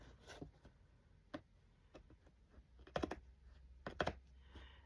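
Sharp scissors snip fabric material at an angle in a quiet room. Several crisp clicks come irregularly, and a tight cluster of louder snips arrives toward the end.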